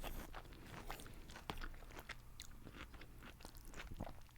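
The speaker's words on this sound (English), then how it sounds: "I have to stop eating for a second" Close, soft chewing and biting on vegetarian lasagna with cauliflower, irregular wet crunches and mouth sounds over a quiet background, with no talking.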